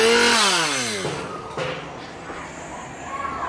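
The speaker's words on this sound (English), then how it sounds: "I'm pretty sure that's a chainsaw." Real chainsaw running at a Halloween haunted attraction, a loud revving burst that drops in pitch and fades into a lower idle, with crowd noise around it.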